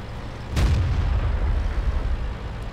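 A single heavy tank cannon shot from a T-54 in World of Tanks on the Sand River map, a sharp loud boom followed by a long rumbling tail, with no talking.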